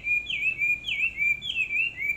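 A caged Chinese hwamei laughingthrush sings close by in clear, repeated whistled phrases with rising and sliding notes in a steady rhythm, loud and alone.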